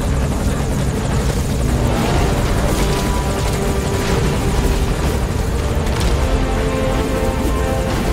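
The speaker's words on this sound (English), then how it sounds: "And there's our chopper." A helicopter arriving at a landing zone in Metal Gear Solid 5, its loud, steady rotor thump and turbine roar filling the scene continuously and close by, with no talking.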